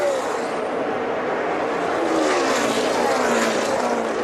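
NASCAR Nationwide Series stock cars race through the last lap at a speedway, a loud continuous roar of engines sweeping past in a dense, rushing wash that swells toward the end.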